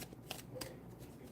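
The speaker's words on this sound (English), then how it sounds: "I'm going to pull three of these cards on it." Tarot cards riffle and slap together in a quiet room, with a few crisp bursts of shuffling and a soft flick as cards are drawn, fairly close and without talk.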